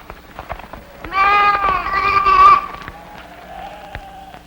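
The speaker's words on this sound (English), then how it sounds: "Take your 8 sheep." Sheep bleat in a long, loud, wavering cry lasting over a second, close by, followed by a fainter, thinner bleat in a biblical-era film scene where flocks are being divided.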